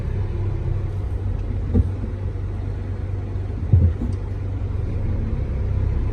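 A car being moved out into a shaded spot: a close, steady low engine rumble continues throughout, with two brief thumps, and no one speaks.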